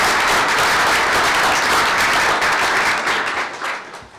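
Steady applause from a board meeting audience honoring award recipients, dense and loud throughout, tapering off toward the end.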